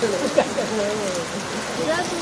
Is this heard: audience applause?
no